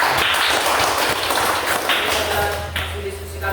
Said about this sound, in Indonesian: Baik, mari kita tepuk tangan untuk kelompok.